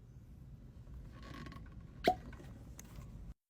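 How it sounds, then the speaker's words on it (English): A cork pops once from a Bulleit bourbon bottle, a short sharp pop standing out against a quiet room hum, with a faint creak of the stopper just before it. "That was a good cork pop."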